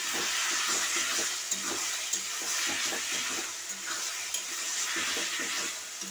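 Meat frying with chilli powder in a pan, partly covered with a lid, giving a steady soft sizzle with faint crackles and occasional stirring clinks, close and even throughout.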